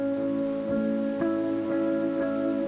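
Steady rain pours onto a hard surface during a storm, a dense continuous patter with a few heavier drips tapping at intervals, close and fairly loud with nobody talking.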